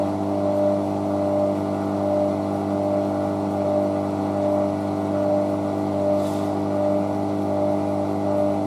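A Hotpoint WM63 washing machine drum balances and slows, giving a steady, loud, droning motor hum with even tonal whine and no rise or break throughout.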